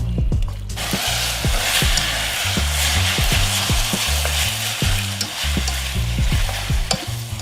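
Mushrooms and fried tofu pouches stir-fried together for japchae: a steady close sizzle with a rapid, regular clatter of a utensil scraping and tapping the pan throughout.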